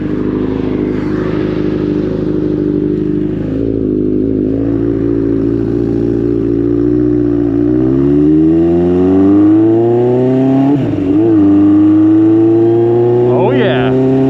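A 1986 Honda CB1000 custom motorcycle on the move, its engine note loud and steady throughout, rising in pitch through gear changes near the end, with wind buffeting and occasional speech underneath.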